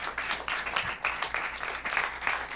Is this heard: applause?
yes